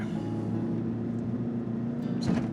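A vehicle engine drones steadily while climbing over sand dunes in the Simpson Desert, holding a low, continuous revving tone that swells slightly toward the end, with no talking.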